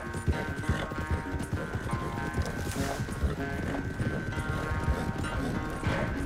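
Horses galloping in a race in Red Dead Redemption 2, steady rapid hoofbeats thudding continuously at moderate volume under a background music bed and other game sounds.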